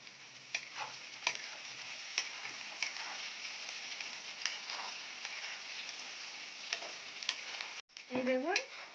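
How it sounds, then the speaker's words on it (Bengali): Onion fries in a pan with browned potatoes, giving a quiet, steady sizzle broken by light stirring clicks and scrapes. Near the end there is a brief louder clatter. "এই দেখুন পেঁয়াজটা হালকা ফ্রাই হয়ে গেছে"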